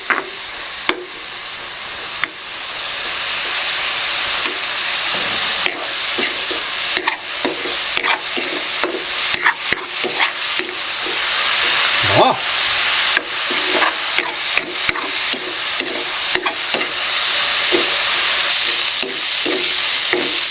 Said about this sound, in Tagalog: Lutuin po natin itong karne ng baboy hanggang sa mag golden brown bago po natin ilagay ang ating bagoong.